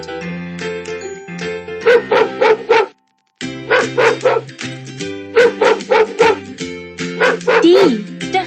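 A dog barks repeatedly in quick clusters of loud, close yips and woofs over a sustained musical backing, with one brief silent gap midway.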